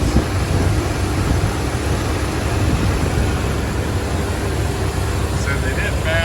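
A 1985 Dodge Ramcharger with a 318 V8 runs steadily, a loud, constant broadband engine rumble filling the whole stretch, with faint voices in the background.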